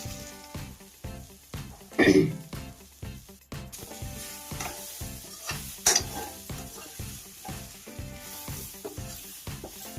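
Food cooking in a pan on a stove, a close sizzling hiss broken by rhythmic stirring scrapes and a couple of louder clatters, with a person speaking now and then.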